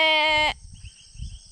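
A goat gives one loud, close, wavering bleat lasting about half a second, followed by quiet rustling and faint insect chirping from grassland in the Philippines.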